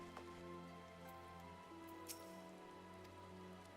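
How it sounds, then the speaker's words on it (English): Steady rain patters throughout a nighttime scene in Final Fantasy XIV, a soft continuous wash over low sustained game music, with no voices. "And raining."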